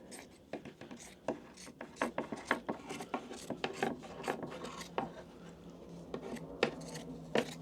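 Scissors snipping through the fabric backing of a freshly tufted rug, a quick series of near, crisp cuts and rustles in an irregular rhythm with no talking.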